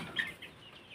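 Sonali chickens on a small poultry farm give a few faint, brief clucks at a distance over quiet background noise.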